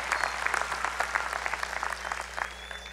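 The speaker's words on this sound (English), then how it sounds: "Another round of applause for Hugo, an aspiring teacher." Audience applause at a university commencement ceremony, a steady, moderately loud wash of many hands clapping that holds for the full three seconds, with no talk over it.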